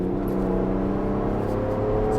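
A Ford Bronco Raptor driving on an ordinary road with its exhaust switched to the loud mode, giving a steady, fairly loud engine drone with a low rumble throughout, close to the listener.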